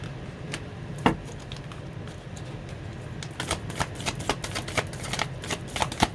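Oracle cards shuffled and drawn close by for a reading, soft papery riffling under a quiet background hum, becoming a quicker run of light flicks and taps in the second half.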